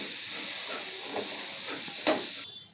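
Pav bhaji masala with turmeric and Kashmiri red chilli sizzling in a pan, a steady close hiss with faint stirring scrapes and a sharp tap near the end before the sizzle drops away.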